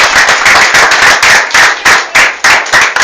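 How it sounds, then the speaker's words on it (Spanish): A church congregation clapping for the Lord in quick, loud bursts of sharp hand claps with brief gaps between them, close and filling the room, with no talk over it. "Denle un aplauso al Señor."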